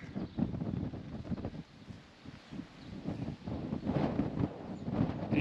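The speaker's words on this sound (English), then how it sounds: "It is stupidly windy up here today." Strong wind buffets the microphone high up at a National Trust-registered lighthouse at Cape Jaffa, a constant low rumbling roar that swells and dips throughout, louder toward the end.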